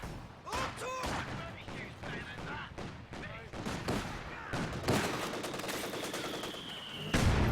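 Mortar shell strikes a Vickers machine-gun team amid a Company of Heroes 2 2v2 battle, with dense rattling gunfire and bursts throughout and a sharp loud impact near the end, under a commentator's voice.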